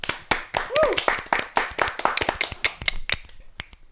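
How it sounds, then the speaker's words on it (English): A small podcast group claps in a quick run of sharp, close hand claps over about four seconds, some louder than others, mixed with chatter and laughter. "Let's get a clap for that one"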